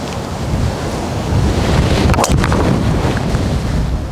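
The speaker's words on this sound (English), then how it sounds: "Wind's hard off the left." Strong wind gusting hard across a golf course, loud steady buffeting roar against the microphone, swelling in the middle and holding without a break.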